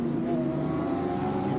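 A front-engined Porsche 944 Turbo races on a tarmac circuit at a motorsport festival, its engine drone steady and continuous at close to middle distance with no break.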